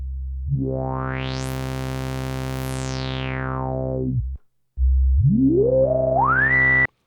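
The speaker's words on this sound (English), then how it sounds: "let's do some filter sweeps" A resonant Roland SH-101 analog synthesizer tone whose filter sweeps slowly up to a bright whistle and back down, then after a brief gap a second sweep climbs in steps.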